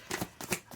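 A deck of oracle cards being shuffled up close, a few quick papery riffles and soft slaps in a short burst, quiet and with no voice over it.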